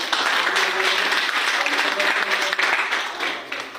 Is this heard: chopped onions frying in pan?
no